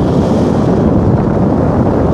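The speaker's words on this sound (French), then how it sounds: "aujourd'hui on a du vent" Steady wind buffets the microphone at a paramotor landing field, producing a constant loud rumbling roar with no break and no voices.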